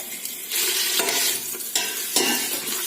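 Onion frying in olive oil in a pan, a steady broadband sizzle that swells louder after the first half second, with a few brief scrapes and stirs as the pieces are turned, close and without voices.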